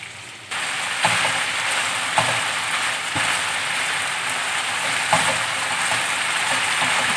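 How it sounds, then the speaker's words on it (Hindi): Chicken tikka boti fries on a tawa over low to medium flame with a dense, steady sizzle and crackle. A few sharper spatters and stirring knocks break through, and no one speaks. "इसका मज़ीद सारा कलर चेंज होने तक फ्राई करूँगी"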